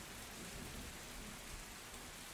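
Steady rain falls in a continuous, even hiss, with no breaks and no voices, at a fairly soft level throughout.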